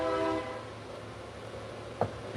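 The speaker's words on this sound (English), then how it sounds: "you hear the horn with the train" A train horn blasts near the start, holding steady tones for a moment before cutting off, leaving a low rumble of passing rail cars and a single sharp thump near the end.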